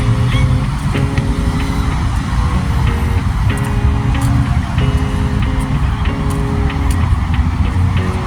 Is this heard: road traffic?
yes